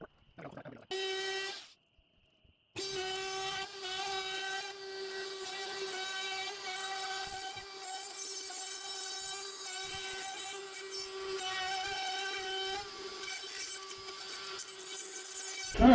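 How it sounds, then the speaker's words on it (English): A handheld router cuts wood for a DIY chicken brooder, a steady high-pitched whine that starts after a short gap and holds loud and constant for a long stretch, close by with no talk. "that's the way the router should go"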